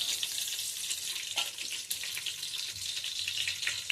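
Shahjeera and cumin sizzling in hot oil in a pan for bagara rice, a continuous bright frying hiss with faint crackles, close and steady, no talking.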